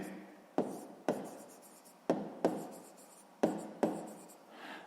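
Chalk or pen strokes write down a math answer: a series of crisp scratching strokes, about six distinct bursts in uneven rhythm, close and clear with no talking.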